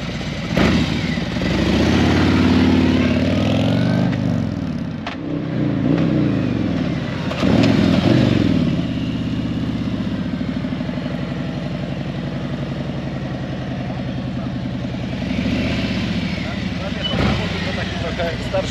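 A nearby motorcycle engine runs and revs in repeated surges with a rough, throaty rumble, while someone talks over it.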